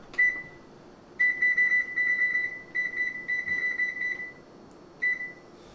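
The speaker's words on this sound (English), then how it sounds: "Turn the timer on." A kitchen timer beeps in repeated bursts of high-pitched tones, short runs of quick beeps with brief pauses between them, clear and nearby.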